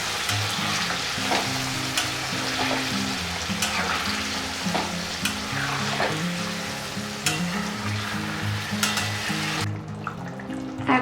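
Chicken kosha in a pan, just topped with a little water, sizzling and frying hard with steady crackling and occasional scraping stirs, loud and close with no talk.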